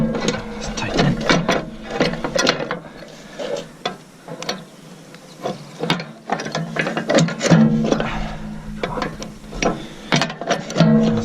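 A ratchet tool tightens a part during an in-field repair of a flat roller, giving loud, close bursts of rapid clicking that stop and start irregularly, with no talking.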